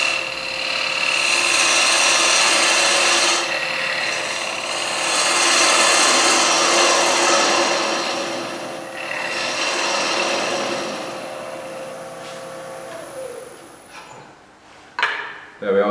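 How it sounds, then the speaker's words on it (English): A bowl gouge makes bevel-rubbing push cuts on the foot of a wooden bowl spinning on a lathe, a steady rasping hiss that swells and fades with each pass before stopping near the end, with faint speech. "we can do that with the bowl gouge. Again, bevel rubbing using the push cut method."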